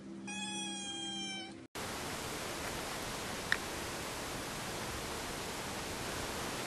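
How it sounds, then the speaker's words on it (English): A cat lets out one clear, drawn-out meow up close, followed after a brief cut by a steady, loud hiss of noise. "Watch many times for Casper's meow"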